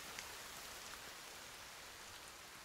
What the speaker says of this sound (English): I'm going to turn this rain off real quick